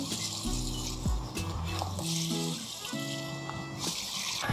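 Water splashes and trickles steadily onto flowers, as if poured from a watering can, with soft tonal background sounds and occasional clinks.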